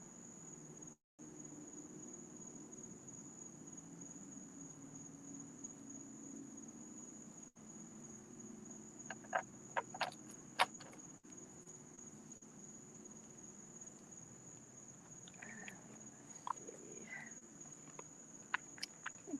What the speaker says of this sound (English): Surprising the cicadas aren't so loud.